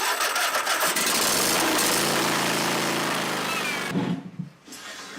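A Ryobi riding mower switching on, giving a loud steady electric mechanical whir with blade hum that holds for several seconds, then drops away and dies off near the end.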